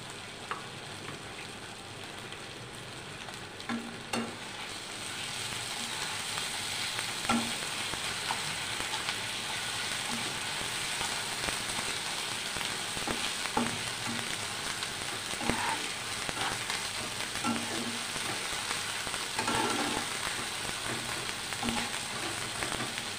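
Ground paste of cumin, ginger, chili and garlic frying in a pan, a steady, close, hissing sizzle that swells after a quieter start, with recurring stirring scrapes and light taps.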